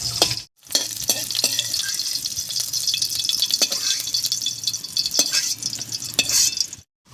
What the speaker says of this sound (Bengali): এই তেলের মধ্যে ভেজে নেব কেটে রাখা মিষ্টি কুমড়ো।